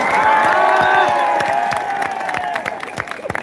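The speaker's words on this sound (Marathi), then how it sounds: "बाळासाहेब शिंदे सर यांच्यासाठी जोरदार टाळ्या वाजवा" An audience claps and cheers at a public event, a dense burst of applause with whoops that gradually thins out over a few seconds.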